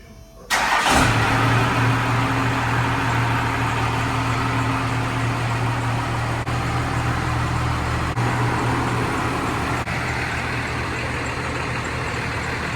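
A first-generation Cummins diesel truck cranks briefly, fires and settles into a steady, loud, close idle with a low clattering hum that runs to the end.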